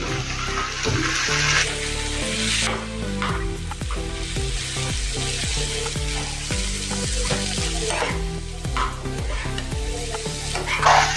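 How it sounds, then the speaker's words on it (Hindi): Rice flour balls frying in a pan and being stirred, with steady loud sizzling and repeated scraping strokes of the spoon throughout, and no talking. "अभी इसमें हम जो हमने तैयार किए हैं चावल के आटे के गोले वो इसमें डाल देंगे।"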